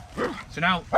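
A dog gives a few short barks and yips in quick succession, close by and fairly loud.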